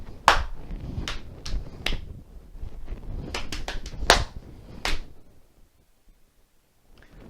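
Body percussion from a primary music lesson: sharp claps and knee pats in a steady rhythmic pattern, several close, crisp hits in a row, then the sound falls away to near silence.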